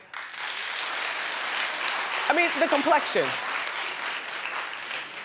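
Audience applause at a comedy show, broad and steady through the whole stretch, with a voice briefly talking over it midway.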